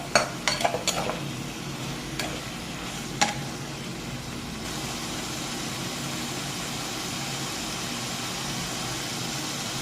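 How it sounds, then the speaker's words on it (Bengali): Fried prawns stirred into a sizzling spice masala for a Bengali prawn malai curry, with a steady hiss of frying throughout and a few sharp clinks of a spoon against the pan near the start. "এর মধ্যে এবার ভেজে রাখা চিংড়ি মাছগুলো দিয়ে দেবো। মশলাটার সাথে মাছগুলোকে একবারে মিশিয়ে নেব।"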